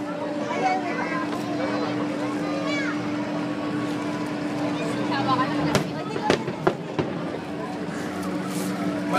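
Fireworks bursting at an international pyromusical competition in the Philippines, several sharp distant booms late on over constant crowd chatter and a steady hum, with people talking nearby.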